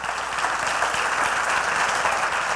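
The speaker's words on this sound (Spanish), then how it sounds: "Un aplauso al Señor." A church congregation applauds together, a steady dense patter of many hands clapping at moderate distance for a few seconds.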